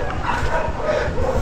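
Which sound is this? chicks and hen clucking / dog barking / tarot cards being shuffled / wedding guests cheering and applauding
dog barking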